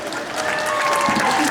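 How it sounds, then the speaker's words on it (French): A crowd at an outdoor concert on Place de la République in Paris applauds loudly and continuously, a close, dense wash of clapping with a voice briefly audible beneath it. "on peut les applaudir très fort s'il vous plaît"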